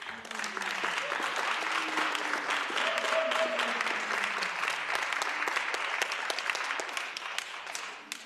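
Sustained audience applause fills a youth sector parliament hall for visually impaired participants, dense and steady for about eight seconds before tapering off at the end, with brief faint voices mixed in.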